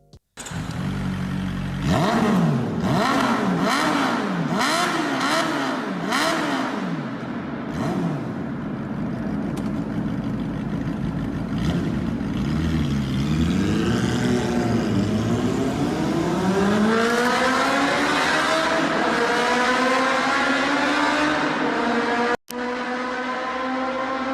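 Honda CB400SF motorcycle engine with VTEC, revving hard and climbing through rising pitch sweeps as it gains speed, loud and close, with repeated gear-change rises over about twenty seconds before cutting off abruptly near the end.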